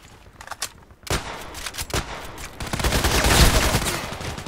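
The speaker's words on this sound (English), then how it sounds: "That was like 6 shots or something? 7 shots?" Rapid burst of video game sniper gunfire, several sharp reports in quick succession building into a dense, loud volley with no talk.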